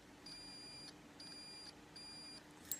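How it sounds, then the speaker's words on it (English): A multimeter beeps three times during continuity testing on a 3.5mm AV lead: steady, clear, high tones of just under a second each, evenly spaced, over a quiet background. "my one also lights up as well as beeps when it does a continuity"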